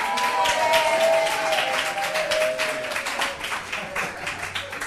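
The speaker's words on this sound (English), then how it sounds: "Hey, guys, another round of applause, please. For Eddie!" An audience at a talk applauds for Eddie, the chairperson, with steady, fairly loud clapping that carries throughout, a voice briefly audible over the start.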